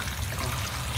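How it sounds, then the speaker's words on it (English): Rain falls as a steady, dense wash of noise in an old-time radio drama, continuous and fairly soft, heard alone with no talk. "It's rain."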